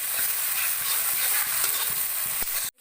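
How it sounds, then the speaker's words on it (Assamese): Whole garam masala, cinnamon and two bay leaves fry in a hot pan, giving a loud, steady close-up sizzle broken by scraping stirs, with no one talking. "আৰু এতিয়া ইয়াত মই কেইটামান গৰম মছলা, দালচিনি অলপ দিম, আৰু তেজপাত 2টা দি এতিয়া অলপ ভাজিব লাগিব।"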